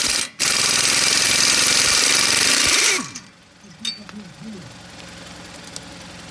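A Milton 1/2 inch drive air impact wrench hammers loose a 32 mm wheel bearing nut in one loud, continuous rattling burst of about two and a half seconds, then cuts off into a quieter background with a voice.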